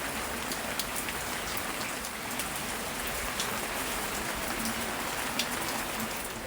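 Heavy downpour in Rameswaram, a steady dense hiss of rain drumming on surfaces that holds constant throughout, with no voices.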